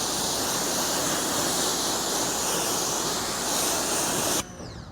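A water hose rinses a car that has just been coated with Meguiar's Hybrid Ceramic Wax, making a loud, steady spray hiss that stops abruptly near the end, with a short spoken remark.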